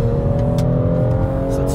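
A BMW M240i xDrive engine pulling steadily under acceleration, a loud continuous drone heard from inside the car, with no talk.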